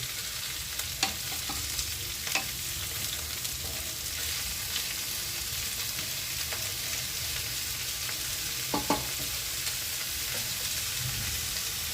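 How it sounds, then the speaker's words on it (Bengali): Snake gourd (chichinga) fries in hot oil, giving a steady close sizzle throughout, with occasional sharp clicks and scrapes as a spatula stirs the pieces in the pan. "চিচিংয়েগুলো এবার তেলে খুব ভালোভাবে চিচিংয়েগুলো ভেজে নিচ্ছি"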